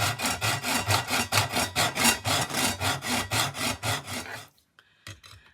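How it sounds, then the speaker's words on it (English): A hacksaw is drawn back and forth with light pressure, about a dozen steady, evenly paced rasping strokes close by, then the sawing stops and goes quiet. "So with the hacksaw, you're better off not pressing down. You just want to kind of go back and forth."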